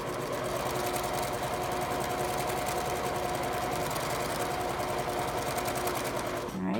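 A sewing machine runs continuously, its fast even needle chatter and motor hum close and steady as fabric for a photo pillow is stitched, then it stops abruptly at the end.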